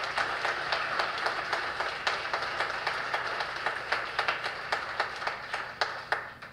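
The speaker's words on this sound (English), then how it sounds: "can you give Ralph just a round of applause for his leadership?" At an education conference, an audience gives a round of applause. A steady patter of separate hand claps sounds faint and distant in a large room, continuing evenly for several seconds without talk.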